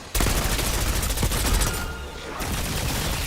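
AK-74 automatic fire in Black Ops 6, a dense rapid burst of loud close shots that runs almost without a break for over two seconds, then stops for a moment and gives way to a rumbling tail.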